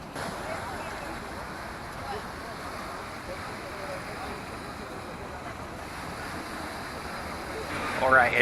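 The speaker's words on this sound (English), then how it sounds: "here we are at the harbour of Lisbon" Waves and wind at the harbour of Lisbon, a steady broadband wash of surf and gusting air that holds evenly throughout and swells a little louder at the very end, with no clear talk on top.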